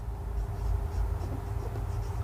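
A pen scratches out numbers by hand during a Class 6 maths lesson on natural numbers, a steady close scratching of strokes with no voice over it.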